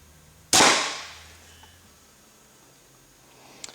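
A crossbow fires at a target ten yards off, giving one sharp, loud snap with a short fading ring, and then near silence apart from a faint click at the end.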